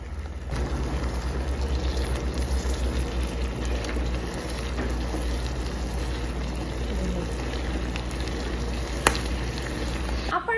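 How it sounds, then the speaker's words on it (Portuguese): Risotto sizzles steadily in a pan as broth is added and the rice is stirred, a continuous frying hiss with faint scraping and one sharp knock near the end. "Vou misturar aqui então e começar a colocar o caldo."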